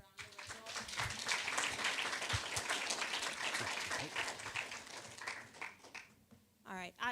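Audience applause follows a lecture: many hands clapping at moderate volume, swelling and then thinning out, with a voice speaking briefly near the end as the clapping fades.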